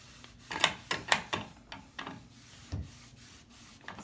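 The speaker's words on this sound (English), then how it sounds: "I'm just gonna kind of wipe off all of the excess" A cloth wipes excess liquid wood stain off a dresser surface, making several close, soft rubbing strokes in an uneven rhythm with short pauses between them.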